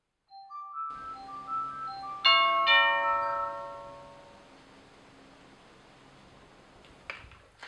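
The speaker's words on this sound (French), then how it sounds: "qui va venir donc déclencher à distance mon carillon et ainsi je vais pouvoir être averti de la présence d'un visiteur à mon portail" An EXTEL wireless doorbell chime rings out a bright multi-note melody, several clear tones that layer and then decay slowly into a fading ring, followed by a small click near the end.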